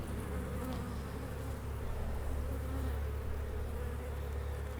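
Honey bees drone continuously during a hive inspection before a split, a thick, even buzz of many insects close around the open boxes, unbroken for several seconds with no talk.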